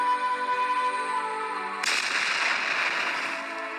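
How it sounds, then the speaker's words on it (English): A sudden explosion sound effect from a video editor cuts in partway through, a loud burst with a noisy rumbling tail that fades over the following seconds, following a steady musical tone. "go to under effects, you go to fight, then you add explosion"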